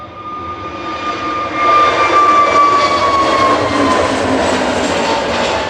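Jet airliner taking off from Manchester Airport, a loud steady roar that swells after the first couple of seconds and holds with a whining tone, no talking.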